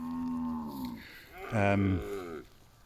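Cattle bawl loudly after their calves have been weaned: two long, drawn-out moos sound close by, the second rising and stronger before tailing off.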